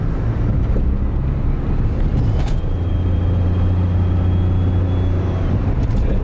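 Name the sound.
turbo whine of Daihatsu Move kei car accelerating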